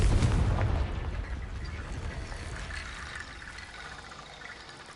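The Confringo fire spell in Hogwarts Legacy bursts at the start with a loud, booming blast that fades into a long crackling, rumbling tail, without any talking.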